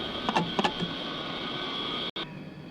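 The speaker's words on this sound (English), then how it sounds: "Pull that all the way back, and it will release your undercarriage." Aircraft undercarriage releases and lowers with a whirring mechanical drone and a few quick clicks at the start, then a brief cut before the hum resumes, in a Gerry Anderson production.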